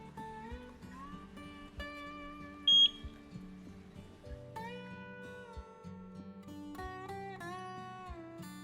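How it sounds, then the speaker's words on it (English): A single short, high electronic beep from a Eufy Mini smart indoor camera during setup sounds once over steady background music. "press the button at the base for a few seconds until you hear a beep and the light flashes blue"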